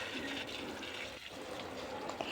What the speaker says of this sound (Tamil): மல்லிப்பூ செடிக்கு தண்ணி விடலாம்.